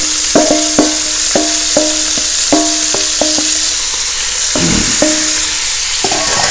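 Thinly sliced onions with red and green peppers hit a hot pan for a Cuban ropa vieja, giving a steady sizzle broken by repeated sharp scrapes and clinks of stirring, close and fairly loud, with no voices.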